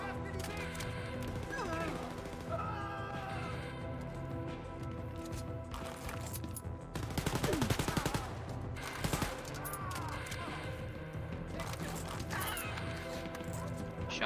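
Gunfire from the Wolfenstein Youngblood video game rattles in a dense, continuous mix, with a sharp rapid burst of shots near the middle over constant game music and ambience.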